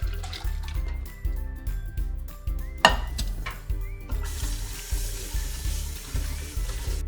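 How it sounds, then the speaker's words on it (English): Hot water is drained off boiled noodles, then cold water runs over them in a steady rinse, heard as a hiss of flowing water under a loud, regular beat of background music. "I'm going to drain out the hot water and then rinse it in cold water."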